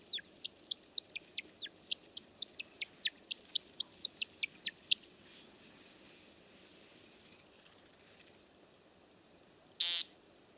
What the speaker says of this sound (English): you're going to hear both a chirping vocalization and the twitter feathers